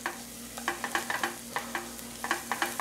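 Shallots and garlic fry in bacon fat while a spoon repeatedly scrapes and taps the pan in a quick, steady rhythm over a continuous close sizzle.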